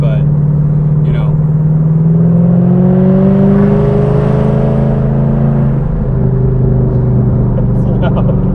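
A car with a loud modified exhaust revs nearby, its deep droning note rising and falling through several continuous revs at high volume.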